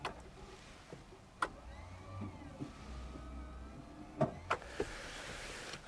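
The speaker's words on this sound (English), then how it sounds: "to operate the power antenna, you just push the button" The power antenna motor of a 1969 Cadillac Eldorado whirs faintly and steadily at low volume, punctuated by a few sharp clicks and taps near the end.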